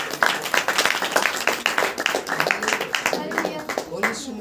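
A church congregation at a worship meeting claps hands together in a steady, fast rhythm, many hands at once, loud and continuous throughout with voices mixed in.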